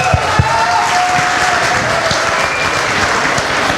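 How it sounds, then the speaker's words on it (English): Sustained applause from a crowd of parents and guests at a Bal Gokulam children's performance event, dense steady clapping with a few sharper claps near the start, filling the whole stretch without speech. "big round of applause for all the parents who have been cheering since morning"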